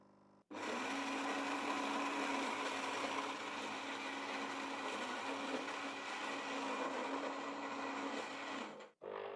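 A fully automatic coffee machine starts abruptly and runs with a steady, loud whirring drone for several seconds, then cuts off near the end.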